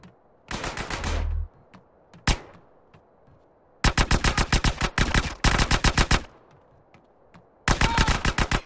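Automatic gunfire in the video game GTA San Andreas, loud rapid bursts of several seconds each separated by short pauses, with one isolated single shot between them.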